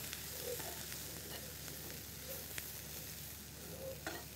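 Ground cumin, coriander and garam masala fry briefly in a pan, a quiet steady sizzle with a few soft stirring scrapes and clicks, no voices over it.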